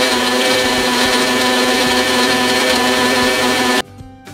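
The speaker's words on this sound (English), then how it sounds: "put the lid on the blender and we're gonna blend it all up" A blender blending soaked almonds roars steadily at full power for nearly four seconds, then cuts off abruptly into quiet.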